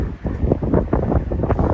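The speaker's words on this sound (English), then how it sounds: "it's very windy around here today" Strong wind buffets the microphone in the gardens at Alton Towers, a steady rumbling gust that continues throughout with no voices.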